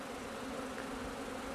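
Bees buzz around a hive in a steady, dense drone that holds evenly throughout, close and moderately loud.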